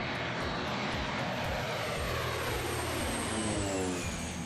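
Steady, loud drone of a 1990 Cessna Caravan single-turboprop airplane in flight, a continuous broadband engine and airflow roar filling the cabin without a break.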